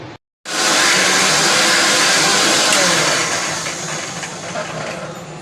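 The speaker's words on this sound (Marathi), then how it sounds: "आता लसूण मिरची जिरे आपण आता मिक्सरमध्ये ग्राइंड करून घेऊया" A mixer grinder grinding garlic, green chillies and cumin whirs loudly after a brief silence, a steady high-pitched motor roar that eases slightly toward the end.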